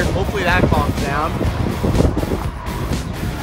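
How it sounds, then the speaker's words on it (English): Strong wind gusts buffet the microphone outdoors in Idaho's mountains, a steady rumbling roar beneath a person talking throughout. "It is super windy out here."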